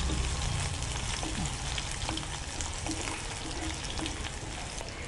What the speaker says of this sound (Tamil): இப்போ வந்து இது ஒரு 50 கிராம் வெங்காயம் போடுறேன்